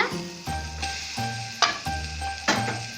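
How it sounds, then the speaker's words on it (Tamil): Pirandai (veld grape) sautéing in hot oil in a pan, a steady loud sizzle with bursts of stirring scrapes at regular intervals, no voices. "எண்ணெயில் வதக்கி வைத்த பிரண்டையை போட்டுக்கலாங்க"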